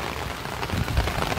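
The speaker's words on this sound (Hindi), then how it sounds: "ये देखो जी बारिश नज़र आ रही है, बहुत ठंड हो रही है" Heavy rain falls steadily outdoors on a cold rainy day, a dense, even hiss with low spattering thuds, close and continuous with no talk over it.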